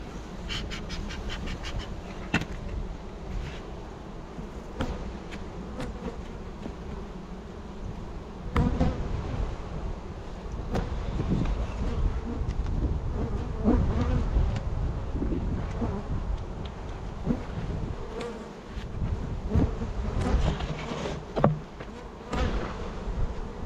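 Honey bees hum around hives in a nuc yard in a dense, continuous buzz that stays close and steady, with occasional knocks from handling the hive boxes.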